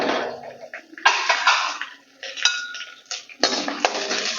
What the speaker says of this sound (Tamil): இப்போ நம்ம ஏற்கனவே எடுத்து வச்சுருக்க காஞ்ச மிளகாவை சேர்த்துக்கலாம்